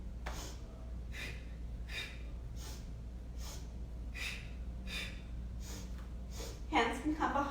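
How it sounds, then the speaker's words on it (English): During a yoga exercise, sharp rhythmic breaths in and out come about once per second, close and clear over a low steady hum, ending in a louder breathy burst. "Suck in and switch. Inhale, inhale, exhale, exhale."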